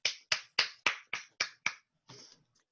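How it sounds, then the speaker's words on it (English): One person claps over a video call, seven quick close claps in a steady rhythm, then a softer rustle, with no talk. "I love a virtual clap."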